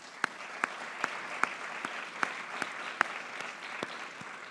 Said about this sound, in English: I'll give a round of applause to them